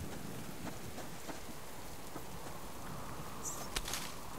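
Steady rain in the video game Subsistence, a dense continuous hiss of drops on the ground with faint scattered patters and a small crackle near the end, quiet and even, no voices.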